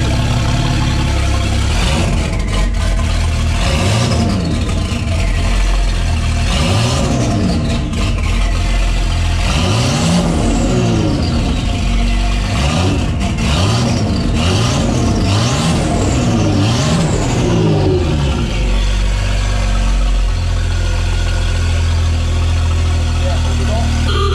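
A cold V12 bi-turbo engine in a Traction car idles roughly and is blipped several times while warming up, loud and near, with revs rising and falling under occasional talk.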